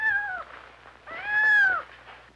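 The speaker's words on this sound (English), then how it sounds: "we can hear the kitten." Two distinct kitten meows, a short one then a longer rising-and-falling cry, clear and close with quiet gaps between.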